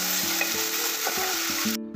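Ginger, cumin, coriander, green chilli and garlic paste sizzles steadily with onions in a hot pan, broken by a few regular stirring scrapes, then cuts off abruptly near the end.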